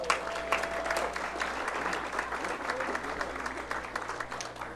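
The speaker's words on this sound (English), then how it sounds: "You can clap if you want" Sustained applause from a banquet crowd at a high school sports awards night, dense continuous clapping throughout with a faint voice briefly audible beneath it.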